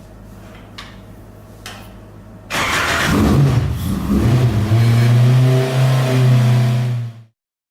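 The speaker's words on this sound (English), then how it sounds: "the students go through the right procedures on firing the car" Race car engine fired up, starting with a sudden loud roar after a few clicks, then revved and idling roughly at close range before cutting off abruptly.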